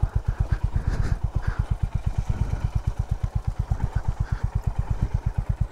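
A Honda H'ness CB350 single-cylinder motorcycle is ridden on a rough off-road track near Kulekhani. Its engine gives a steady, loud, close thumping beat of rapid, even pulses throughout, with no voices.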